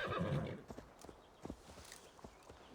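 A horse in Assassin's Creed Valhalla gives a loud whinny at the start, followed by a light, uneven series of hoof clops as it walks.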